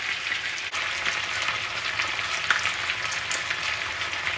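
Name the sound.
onions and marinade frying in a pan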